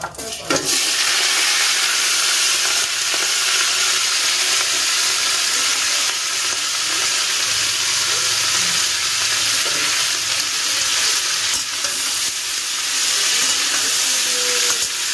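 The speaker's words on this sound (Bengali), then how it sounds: "এই সবজিগুলো আমি ওর মধ্যে দিয়ে দেব।" Chopped vegetables for oats khichdi fry in a hot pan with a loud, continuous hissing sizzle, a sharp burst as they land at the start, then occasional faint stirring sounds.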